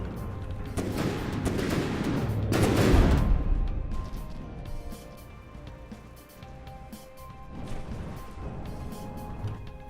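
Heavy cannon blasts boom out in the game From the Depths, with a big rumbling impact early on and dull thuds and clatter trailing after.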